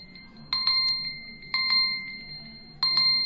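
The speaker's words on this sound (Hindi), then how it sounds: "1 घंटा का अलार्म लगाया था, 1 घंटा हो चुका है।" An alarm set for one hour goes off, ringing three times in a short bright bell-like pattern with pauses between rings, clear and close over a quiet background.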